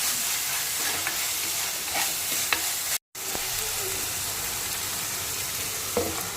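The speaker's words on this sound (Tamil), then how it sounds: "வெங்காயம் நல்லா வதங்கிடுச்சு." Onions sautéing with curry leaves and green chillies for a chicken curry, a constant close sizzle with light scraping stir strokes and a momentary cut in the middle.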